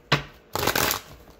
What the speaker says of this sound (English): I like to give a quick shuffle before I put my deck back